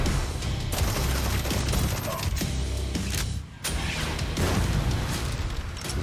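Gunfire in a video game trailer: dense bursts of shots, booms and explosions pound continuously and loudly, broken by one brief near-silent gap midway before the barrage resumes.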